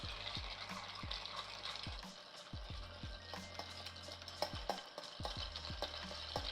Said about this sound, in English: I'm gonna go ahead and give this a long stir.